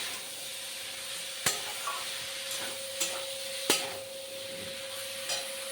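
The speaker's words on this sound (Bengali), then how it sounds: "কষানো প্রায় হয়ে এসছে।" Spiced cauliflower and potato curry being stirred and sautéed in a pan, a quiet steady sizzle broken by a few sharp clicks and taps of a spoon against the pan.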